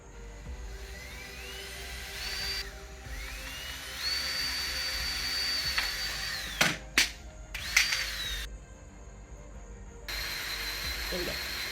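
A power drill whines at a high pitch in sustained bursts, rising and holding, driving self-drilling bolts while mounting bumper struts on an RV, with a couple of sharp clunks in between and steady background hum.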